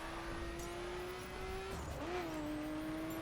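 A racing car engine in The Crew video game holds a steady drone, then drops briefly as the car shifts gear and pulls up again, with faint road and tyre noise behind.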